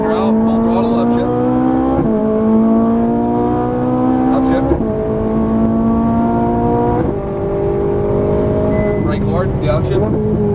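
A Ferrari 458 Italia's V8 screams loudly through the gears on a race track, the pitch climbing steadily then dropping at each quick upshift, several shifts in a row with the engine close and dominant.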